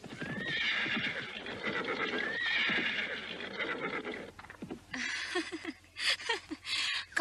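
A tired horse neighs loudly in repeated whinnies, then breathes in heavy, ragged snorts and pants close by, with hoof shuffles between the breaths.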